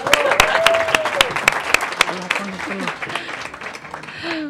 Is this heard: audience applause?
yes